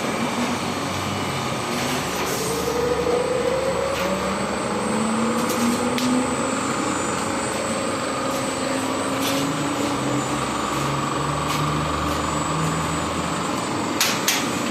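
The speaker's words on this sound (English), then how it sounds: "Here I'm setting the speed of the melt pump to some value between 500 and 750 RPM." A melt pump running on a filter pressure tester for masterbatch, a steady mechanical drone with slowly shifting whining tones and occasional sharp clicks, constant and fairly loud, with no talk.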